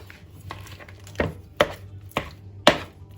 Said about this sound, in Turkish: ve yumurtayı ekliyorum. karıştırıyorum şimdi.